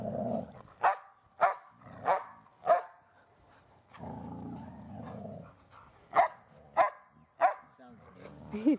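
A deep-voiced dog growls in low rumbling stretches between a series of sharp barks, close by at an indoor play area with other dogs.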